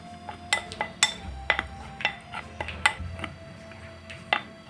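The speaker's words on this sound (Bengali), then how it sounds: "শুকনো উপকরণগুলো একটু মিশিয়ে নিচ্ছি" Dry spices, kalonji, Kashmiri chili powder and turmeric, mixed in a bowl with a spoon, a series of light clinks and taps at an uneven pace, close by with no talking.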